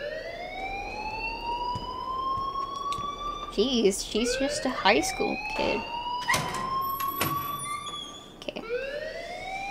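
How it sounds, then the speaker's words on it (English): A wailing alarm rings through a school in the video game Life Is Strange, a sustained rising and falling tone running throughout while people talk over it. "please turn off that alarm since that's your job"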